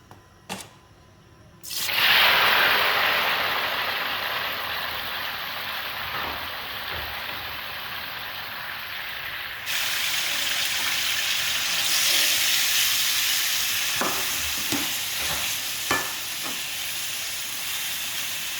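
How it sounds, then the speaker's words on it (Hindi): Tomatoes dropped into hot oil for an egg-and-tomato dish burst into a loud, steady sizzle that keeps hissing on, with a few soft clinks of a utensil toward the end. "ऑयल अच्छी तरीके से गर्म हो चुका है। अब हम टमाटर ऐड करेंगे।"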